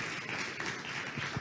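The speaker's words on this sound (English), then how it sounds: "Round of applause." Steady audience applause fills a conference hall after a lightning talk at Devcon Bogotá, a dense continuous wash of clapping at moderate volume.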